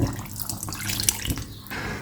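Ginger-garlic water is poured into a chicken karahi, a close, steady liquid splash and gurgle running for about two seconds at moderate loudness, with no talking over it.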